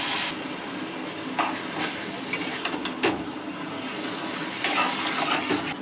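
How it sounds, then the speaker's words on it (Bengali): Boiled taro leaves drop into spices frying in oil, giving a bright sizzle with wet crackles and scraping stirs, close and steady with no voices. "এবার আমি সিদ্ধ করে রাখা কচু শাকটা দিয়ে দিচ্ছি"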